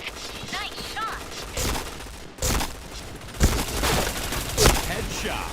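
Video game gunfire rings out in sharp bursts and single shots, some loud and close, with people talking over the action.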